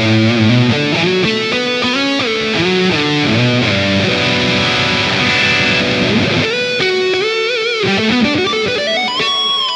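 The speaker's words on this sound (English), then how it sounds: "Let's try a lead tone with a little bit of reverb and delay." An electric guitar with Fishman Fluence pickups plays a distorted lead line, with sustained bending notes and fast runs washed in reverb and delay, loud and close, with no talking.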